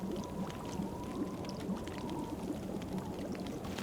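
Potatoes boiling in a pot in the survival game The Long Dark, a continuous bubbling and burbling water sound with a faint steady tone underneath, heard alone.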